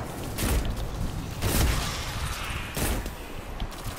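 Hand cannon shots in the video game Destiny 2, a few loud broadband gunfire bursts spaced about a second apart over a continuous in-game rumble.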